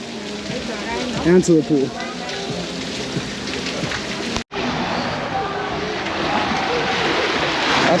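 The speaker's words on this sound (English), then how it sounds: "A little bit of rain." Light rain pattering on water and a boat at sea while crossing toward Bimini, a steady broadband hiss throughout with a brief cut midway and a voice speaking over it early on.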